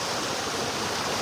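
Waterfall pouring over rocks, a loud, dense, steady rush of water heard up close with no talk.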